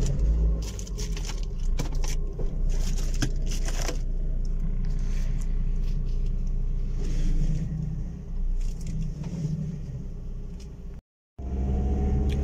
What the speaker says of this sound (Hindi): चलें गाड़ी स्टार्ट करते हैं फिर चलते हैं।